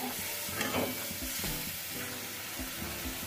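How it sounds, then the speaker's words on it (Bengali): Rohu fish mustard curry bubbling on a high flame, a steady broadband simmer and sizzle with soft stirring knocks throughout, close and continuous with no talk. "ঝোলটা ফুটে উঠেছে"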